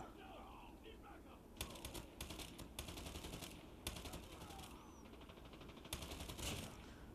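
Rapid automatic gunfire from the Call of Duty video game comes in several sharp bursts of a second or so each, separated by short pauses, fairly faint against a low background.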